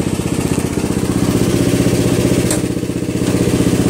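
A Murray Select 12.5hp riding lawn tractor with a 40-inch deck running as it drives, a loud close engine drone with a steady rapid pulsing throb and slight clatter, no talking.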